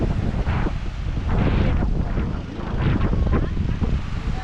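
Sea waves surging at Velankanni beach on a quiet weekday, a steady rushing roar with gusty wind buffeting the microphone, swelling and easing in broad pulses.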